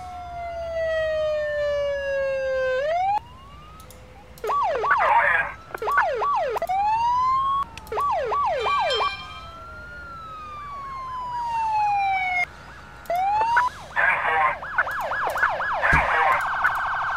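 Police car sirens in the 911: First Responders game in Montana wail and yelp in rising and falling sweeps, several overlapping, loud and continuous with brief pauses, no talk over them.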